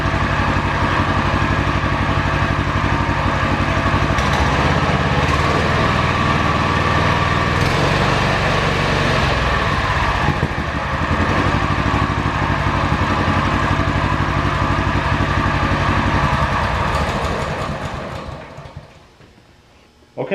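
UTV engine with a freshly repaired clutch running steadily and loud while engaged in reverse, holding a constant drone close by before dying away near the end.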